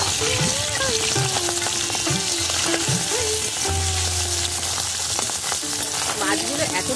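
Fresh morola fish sizzle in hot oil after being turned over, a dense, close crackle running steadily throughout, with faint scraping from stirring mixed in.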